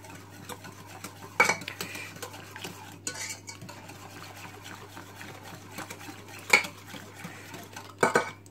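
A spoon stirs cocoa into a pot mixture for a Brazilian cake, giving steady scraping and clinks of metal on the pot with a few sharper knocks, close and fairly quiet, no voices.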